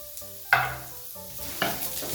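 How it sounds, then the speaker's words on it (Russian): A spoon stirs onions with melted clarified butter in a hot pan, giving a steady soft sizzle broken by two sharper scraping stirs, close and alone without talk. "И все это перемешиваем."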